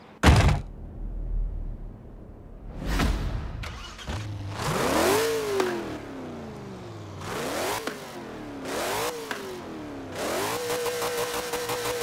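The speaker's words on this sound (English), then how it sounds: "let's hear how this big V8 sounds" Ford GT40 MK1 V8 in Forza Horizon 4 blips and revs in several rising and falling bursts after a door-like thunk at the start, the engine swelling louder toward the end and holding a steady drone.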